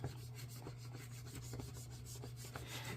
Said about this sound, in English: we're just gonna burnish all of this down